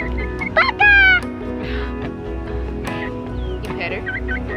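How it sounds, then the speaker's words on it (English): A cat held and petted by a toddler on a spring homestead gives a couple of short, loud meows near the microphone while children and adults talk around it. "A cat."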